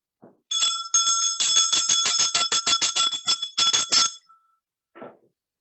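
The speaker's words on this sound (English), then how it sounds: "So Queen, I'm gonna ring the bell" A small bell is rung rapidly over and over, a bright metallic ringing in quick close strikes for about three seconds, with a brief faint sound afterward.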